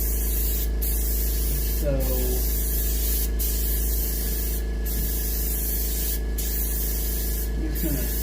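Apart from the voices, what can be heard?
spray painting a light to medium coat on muskie mount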